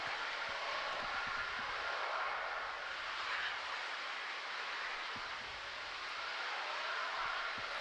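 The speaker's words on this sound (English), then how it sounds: "All 333 Raptor engines have ignited at this point." Starship Super Heavy rocket with its 33 Raptor engines firing during launch, heard as a steady broadband roar with faint crackle, continuous and distant-sounding throughout, no talk over it.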